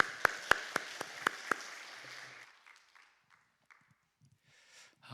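Church congregation clapping in thanks, a few loud, evenly spaced claps over a dense patter of hands that quickly dies away, leaving near silence with scattered faint noises.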